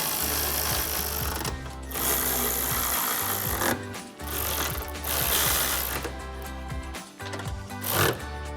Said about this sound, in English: take your 13 millimeter swivel socket to tighten it down.